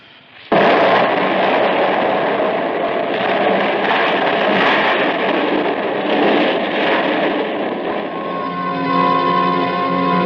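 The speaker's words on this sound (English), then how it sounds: "the dynamite was going to go off because I wasn't outside to stamp out the fuse." A sudden loud dynamite blast in a radio drama erupts after a brief quiet moment, followed by a long, dense roar of rumbling noise that stays intense, with a ringing tone emerging near the end.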